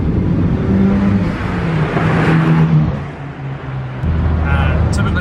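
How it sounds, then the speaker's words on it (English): Turbocharged Honda S2000 at around 400 horsepower accelerating, its exhaust roaring close and loud as revs climb and shift, with a talking voice over part of it. "and you hear the exhaust follow suit."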